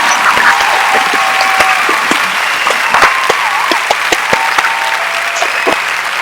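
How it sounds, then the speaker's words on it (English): Loud, sustained applause for history graduates and faculty at a university convocation, a dense crowd clapping continuously with a few cheers and sharp individual claps standing out. "You can tell the veterans know the clapping just goes on and on and on."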